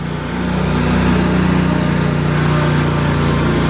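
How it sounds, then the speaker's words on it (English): A lawn mower runs steadily while someone mows a yard, its engine drone loud and continuous with a low harmonic hum throughout. "My dad is mowing the yard."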